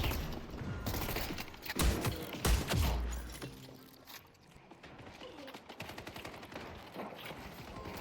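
Gunfire from the video game Deadlock rattles in loud bursts and volleys, with clanks and mechanical noises between shots and a quieter stretch midway.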